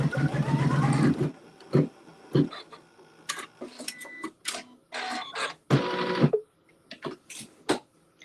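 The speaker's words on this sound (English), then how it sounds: "So the next step is a tack down stitch. So I'll let it tack it down" A sewing machine puts a tack-down stitch into a quilt block, running in short mechanical bursts separated by pauses, close and clear, with no one talking.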